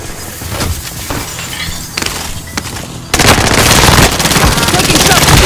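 Gunfire in a Call of Duty: Warzone match on Rebirth Island, played on PS5. Scattered shots crack first over game ambience, then a loud, continuous burst of rapid automatic fire takes over for the rest of the clip.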